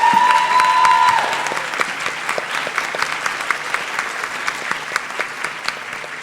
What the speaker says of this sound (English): Let's give her a really good round of applause.